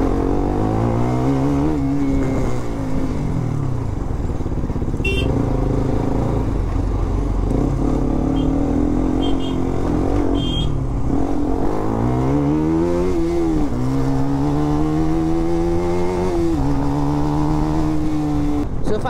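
A motorcycle ridden along a road up to Chamba Ghat, its engine revving up and down repeatedly, loud and close, with gear changes and swells of throttle and no talk heard.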